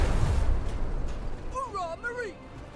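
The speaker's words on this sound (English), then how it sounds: "That was an exceptionally large explosion." A large explosion in a sci-fi tactics video game, a heavy low rumbling boom that fades over a couple of seconds, followed by a voice speaking near the end.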